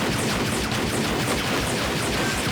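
Dense, continuous gunfire from a film shootout in the action movie One Man's Justice, loud and sustained with rapid overlapping shots throughout.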